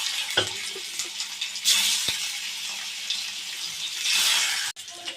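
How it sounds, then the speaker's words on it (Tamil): Sardines (mathi fish) fry in a pan with a steady broadband sizzle that swells and fades in waves, with a few short clicks and knocks of the pan, no voices. "இப்படி எடுத்துட்டு எல்லா மீனையும் நம்ம பொரித்து எடுத்துடலாம்"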